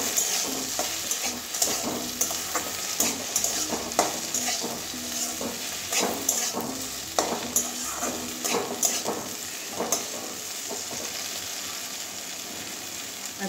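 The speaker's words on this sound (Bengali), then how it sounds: "ভালো করে মিশিয়ে নেব।" Okra and potato fry stirred in a pan after garam masala goes in, with a steady sizzle under repeated scraping strokes of a spatula, close and continuous.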